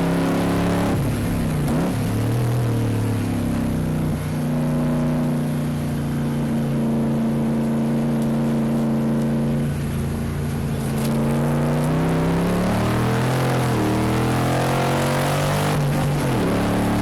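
A number 30 Backdraft Cobra and other race cars roar through an endurance race at Dezzi Raceway. The loud engine noise is continuous, with the pitch rising and falling as the cars accelerate out of corners and rush past.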